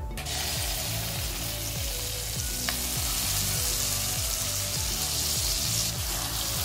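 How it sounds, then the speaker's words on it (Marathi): Ground masala paste frying in hot oil with cumin, mustard seeds and a pinch of asafoetida, a loud continuous sizzle and crackle with a repeating mechanical ticking underneath, no voices. "आपण जे वाटण तयार केलं ते टाकू"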